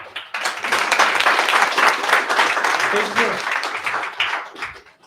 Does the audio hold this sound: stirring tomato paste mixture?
no